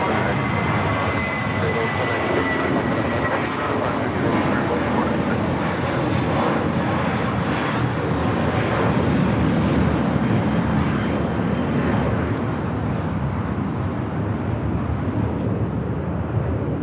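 An airliner taking off on runway 25 right at Los Angeles International Airport gives a steady, broad jet-engine roar that holds at a constant loudness throughout.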